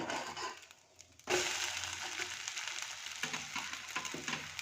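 Vegetable snack sizzling in a frying pan right after being flipped, with the lid off; a steady, moderately loud hiss and crackle fills the pan after a brief quieter moment.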